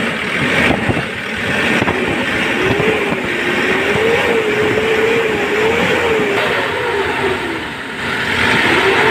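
A Hyundai Porter truck engine with a hard-starting problem runs loudly nearby, its droning pitch wavering as it is revved up and eased off, then dipping near the end.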